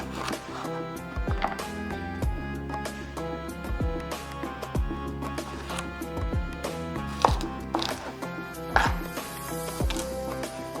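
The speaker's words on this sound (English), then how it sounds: "I'm just gonna chop the head here." A kitchen knife chops eggplant on a cutting board in steady, close, sharp thuds, repeated many times over a background of soft music, with no talk.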